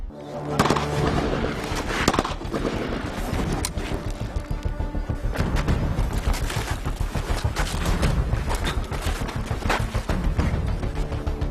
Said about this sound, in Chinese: 那打枪呢！